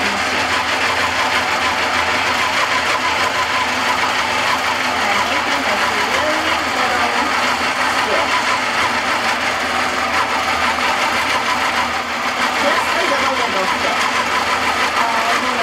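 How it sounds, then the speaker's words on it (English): A quilting sewing machine stitches a wiggle ditch along a quilt seam, a continuous loud mechanical whir and rapid needle chatter running steadily throughout, close up. "This might get a little bit loud as the machine goes on."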